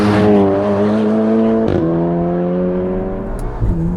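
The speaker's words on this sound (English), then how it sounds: "this car gets to redline extremely quickly" A tuned Volkswagen Golf R engine screams up through the revs to redline at high pitch, briefly dropping as it shifts or lifts, then climbing again; loud and close.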